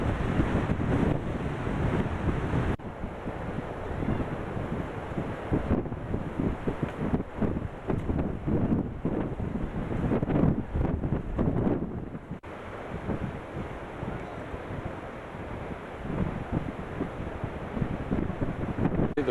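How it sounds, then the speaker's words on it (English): Ocean waves breaking far offshore at the Cape of Good Hope at low tide, a continuous roaring surf wash heavily buffeted by wind noise on the microphone. "The waves breaking way offshore. And they come in."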